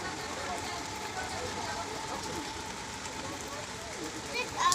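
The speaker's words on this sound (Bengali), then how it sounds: "দেখো বাইরে কিরকম বৃষ্টি হচ্ছে" Rain pours down outside a home on a wet afternoon, a soft, even hiss of falling water continuing throughout, faint and distant, with indistinct voices in the background.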